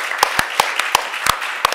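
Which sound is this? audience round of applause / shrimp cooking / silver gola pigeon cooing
audience round of applause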